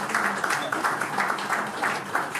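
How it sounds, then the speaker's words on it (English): Audience applause at a bank's healthcare breakfast session, with fairly quiet, steady clapping from a room of people that continues at an even level throughout. "Please give them a round of applause."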